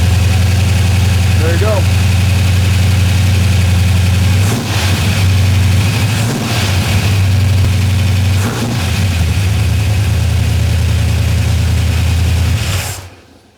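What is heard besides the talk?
1965 Chevelle engine running, cold start break-in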